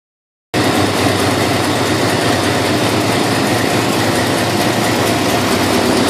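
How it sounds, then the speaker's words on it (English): A 1968 Plymouth Road Runner V8 bursts into life after half a second of silence, then settles into a loud, steady, close idle with a lumpy lope that runs unbroken to the end, with no voices. "I've got her running and just fired her up."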